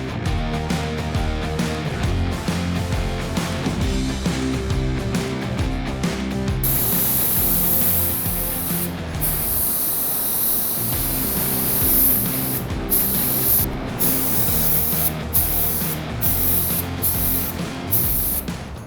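A spray gun hisses in long steady bursts applying base coat in an automotive paint booth, starting and stopping repeatedly, with mechanical hum and clatter underneath.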